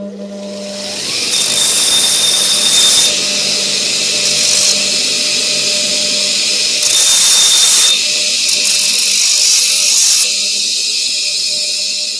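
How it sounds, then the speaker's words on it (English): Linisher belt sander grinding burrs off a metal part in a home shed workshop, a steady loud whirring hiss that runs through most of the clip with two brief louder grinding passes. "I'll just run this on the linisher and take a few other burrs off a bit quicker"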